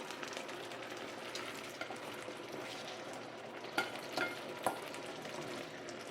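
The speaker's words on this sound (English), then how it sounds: "the tofu, we're going to put it in right now." Tofu with green peas frying in a pan for a spicy Chinese beef dish, a steady close sizzle with a few sharp pops and utensil clicks near the end.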